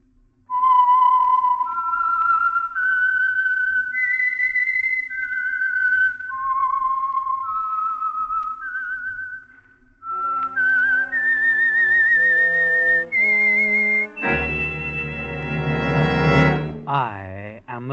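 The Whistler radio program's signature theme, a lone whistled melody of long sustained notes rising and falling, followed by orchestral chords and a swelling brass-and-strings flourish, loud and clear with no talking.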